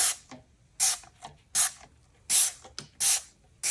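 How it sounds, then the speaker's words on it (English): Short bursts of Dawn Power Wash sprayed from a spray bottle over a resin painting, five or six separate spritzes in an uneven rhythm, close and clear with quiet gaps between. "I'm lightly going to spritz over this"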